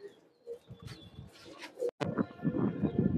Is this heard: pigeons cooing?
yes